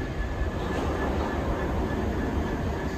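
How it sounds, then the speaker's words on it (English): A London Underground Central line train pulls away from the platform, a steady, fairly loud rumbling roar of motors and wheels filling the station without a break. "I can get a view of the train going"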